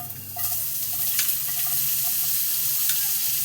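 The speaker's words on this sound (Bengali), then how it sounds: "এইবার এতে এই যে পেঁয়াজ কুচোনো দিয়ে দিচ্ছি" Chopped onion is dropped into hot oil left over from frying catla fish, bursting into a loud, close, continuous sizzle that starts suddenly and holds steady without talk.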